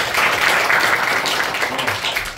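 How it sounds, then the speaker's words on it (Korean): Audience applause at a Korean new sacred song premiere concert, a steady broadband patter of many hands held evenly for the whole stretch, fairly loud and close, with no voices over it. "박수 부탁드립니다."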